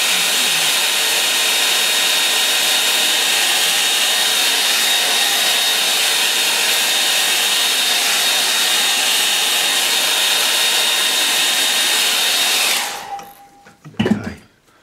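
A hair dryer blows steadily at close range, drying a wet painting. The loud, constant whir runs alone for about twelve seconds, then cuts off, leaving a few faint handling knocks.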